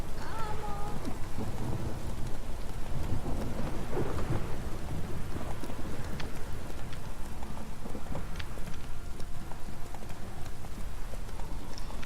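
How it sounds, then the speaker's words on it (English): Heavy rain pours without pause in The Witcher 3 while thunder rumbles through it, loud and close, with no talking. "This downpour's a bastard, it is."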